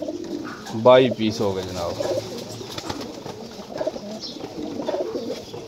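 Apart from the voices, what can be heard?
pigeons cooing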